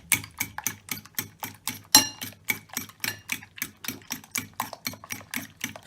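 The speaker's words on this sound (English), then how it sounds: "Am I whisking good?" Eggs being whisked in a bowl for scrambled eggs, the whisk clicking against the sides in a brisk, steady rhythm of about four strokes per second, close and alone.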